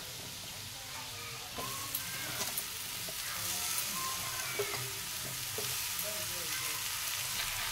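Thinly sliced, peeled bottle gourd drops into hot oil with frying spices, and a steady sizzle picks up after the first moment and keeps going, with faint stirring clinks now and then.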